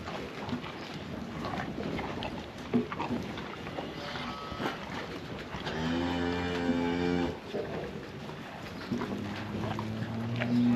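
A herd of about 100 cattle being fed maize silage on a farm moos, with one long, loud low call in the middle and another starting near the end over steady outdoor background noise.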